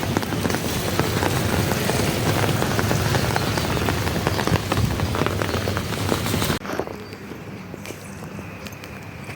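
Steady, dense rain falls on surfaces on a day of all-day rain. It is loud and continuous, then drops abruptly to a softer, lighter patter for the final few seconds. No one speaks.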